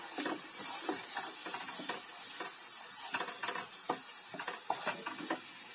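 Kawai fish pieces are stirred with powdered spices in a pan, giving repeated close scraping strokes and clinks over a steady frying sizzle, with no talking.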